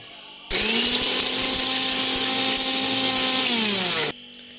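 A mixer grinder runs at full speed grinding onion, tomato, ginger, garlic, pepper, cumin and fennel, a loud steady high-pitched whir that starts abruptly, holds for about three and a half seconds, then cuts off.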